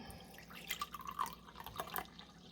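Vinegar poured into a glass jar for pickling cucumbers, a soft trickling, dripping stream that rises and falls for a couple of seconds, fairly quiet and close with no talk.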